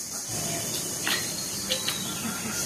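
Water poured into koi fish and potato curry frying in a pan sets off a steady sizzling hiss, with a few brief sharper spits and crackles.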